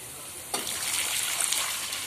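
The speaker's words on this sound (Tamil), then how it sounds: "இப்போ நம்ம தண்ணி சேர்த்துக்கலாம்" Water splashes and trickles steadily into a pan for rava upma, a broad hissing pour that starts abruptly and continues for a couple of seconds.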